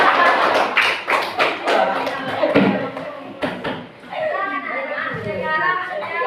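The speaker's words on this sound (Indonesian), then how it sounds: "Tepuk tangan." Children clap their hands in applause, a quick burst of close, sharp claps in the first few seconds, followed by an adult voice and children's chatter.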